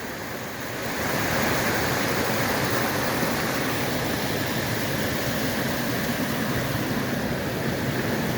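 Harvard Brook in New Hampshire pours over boulders and ledges below the falls, a steady, dense rushing roar of moving water that swells in within the first second and then holds unbroken throughout.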